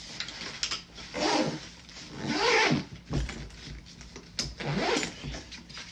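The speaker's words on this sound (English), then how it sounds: "there's still room, and you can zip it" The zipper on a MAC Cosmetics ZUCA makeup artist bag rasps in several long, loud strokes, pulled close by in uneven pulls with short pauses between them.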